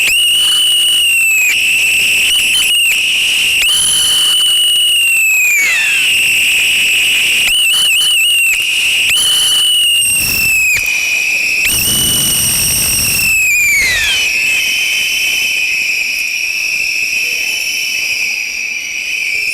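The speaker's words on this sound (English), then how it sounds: "May we please collectively take 1 minute to do crazy things with our whistle" A rally crowd blows whistles together for a minute, a dense, loud, shrill chorus of sustained and trilling blasts that overlap and waver, some sliding in pitch, with brief pauses and restarts and crowd noise beneath.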